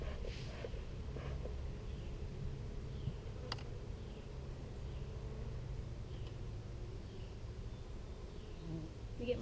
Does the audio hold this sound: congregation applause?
no